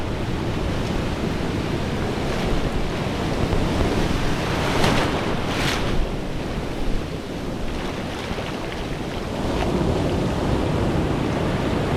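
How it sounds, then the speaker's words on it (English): Continuous roar of ocean surf breaking and washing in on a beach at Arecibo, Puerto Rico, with wind buffeting the microphone throughout, steady and fairly loud. "Nice waves, look at that one."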